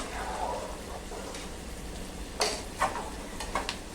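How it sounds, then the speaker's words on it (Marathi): Peanuts sautéing in a pan for a Marathi colocasia leaf curry, a steady close sizzle with occasional crisp stirring clatters near the end. "दाणे मस्तपैकी परतायला लागलेत"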